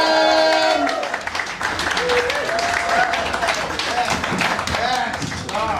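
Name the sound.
audience applause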